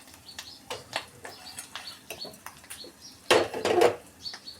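Amla dal with turmeric gets mixed in a pot with a ladle, making soft repeated scraping clinks followed by a louder, longer rattling scrape near the end.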